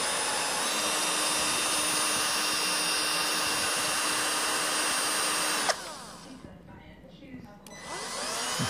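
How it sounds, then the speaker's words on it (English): A power drill fitted with a wire bit whirs at a steady, high pitch for several seconds, then cuts off abruptly, leaving quieter handling noises before starting again, drilling through a miniature dollhouse foosball table part. "So he's just kind of like just drilling it right through there"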